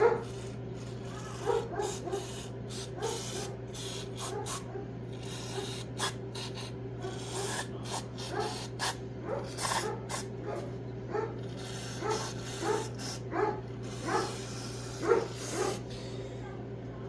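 An old blind dog, thirteen years old, barks repeatedly in a workshop where a Farmall 450 tractor engine is being rebuilt, sharp yaps recurring every second or so over a steady low hum.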